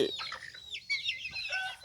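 Chickens offered for sale cluck and squawk in quick, broken bursts at close range, with no speech.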